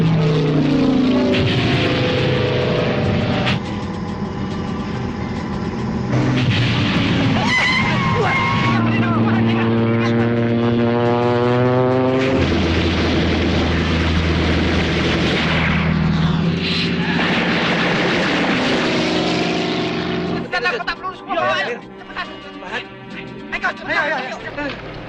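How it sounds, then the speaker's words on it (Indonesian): Allied aircraft roar and swoop in a war film chase, propeller engines rising and falling loudly amid bursts of gunfire and rumbling, with a voice speaking over the dense, continuous battle noise. "Mereka dikejar dan diserang oleh pesawat sekutu."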